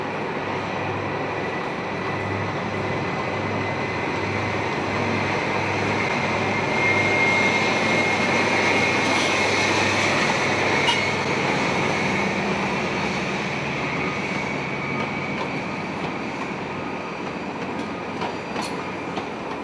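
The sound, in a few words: First Great Western HST train passing at Westbury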